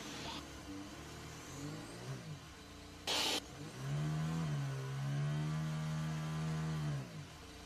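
Sergio Perez's stranded 2022 Formula 1 car at the Canadian Grand Prix revs its engine in rising and falling surges, with a sharp burst in the middle, loud and close, while he tries to engage reverse.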